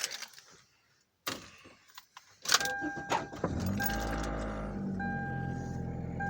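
A car engine cranks and catches after a jingle of keys and a door clunk, then settles into a steady, loud idle close by with a faint whine over it.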